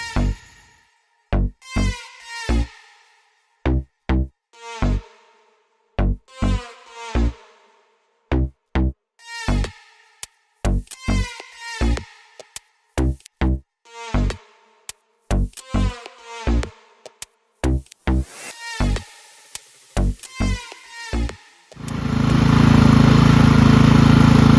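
The engine of a Craftsman LT1000 lawn tractor with a carburetor fault surges at high throttle in sharp, uneven buzzing bursts separated by gaps, then settles into a continuous loud run at the end.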